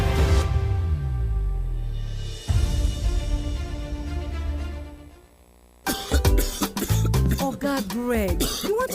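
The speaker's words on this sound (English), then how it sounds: "This your cough." A man coughs in a news drama, sharp harsh bursts with throat clearing over a few seconds, then a brief quiet gap followed by people talking.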